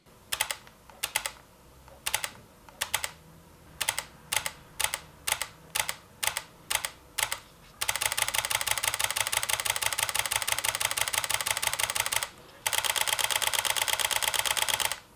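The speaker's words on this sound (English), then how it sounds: "These are mechanical shutter sounds at various burst settings." A Panasonic GX80 camera's mechanical shutter clicks, first in single and short spaced bursts, then in long rapid continuous bursts, close and quiet.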